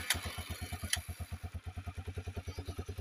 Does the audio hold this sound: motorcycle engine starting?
yes